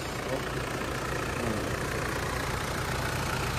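Mitsubishi Pajero Fieldmaster with a 2.8-litre intercooled turbo diesel idles steadily in a continuous low rumble heard close up, with a faint voice in the background.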